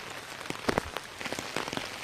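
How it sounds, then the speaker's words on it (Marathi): Faint scattered pattering of light rain, soft irregular drops tapping on a surface in a quiet setting. "आपण दिलेल्या अंदाजानुसार अजूनही पाऊस चालूच आहे"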